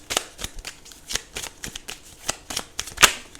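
Tarot cards are shuffled by hand up close in a quick, irregular series of crisp riffling snaps and flutters, about a dozen short bursts with brief gaps between them and no talking.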